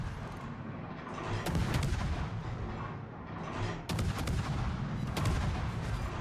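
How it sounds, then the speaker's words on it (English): Destroyer Z-52 guns firing in World of Warships, a run of heavy booming salvos with sharp cracks spaced a second or two apart over a rumbling battle background. "We'll keep shooting now that the Schlieffen is behind the island."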